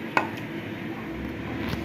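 A single sharp knife chop through bottle gourd peel on a board, near and distinct, followed by faint quieter cutting sounds.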